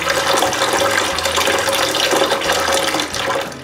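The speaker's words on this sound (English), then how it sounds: "if I open the hot water, the water comes from the barrel" At a cottage, water gushes steadily from a hot tap fed from a barrel. It is a loud, close, continuous rushing flow with no speech.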